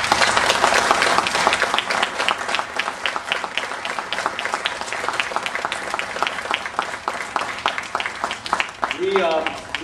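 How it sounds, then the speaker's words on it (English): Loud, dense applause from an audience at an Eagle Scout Court of Honor ceremony, sustained and steady throughout with crowd noise mixed in. "we would appreciate it if you would applaud for them as loud as you can"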